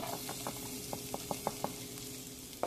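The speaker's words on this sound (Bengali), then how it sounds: "এই বাটারের মধ্যে আমার কাছে চপড গার্লিকগুলো ছিল সেটা কিন্তু দিয়ে দেবো" Chopped garlic frying in melted butter, a steady soft sizzle with a series of light ticks and clicks spaced through it, close and moderate in level.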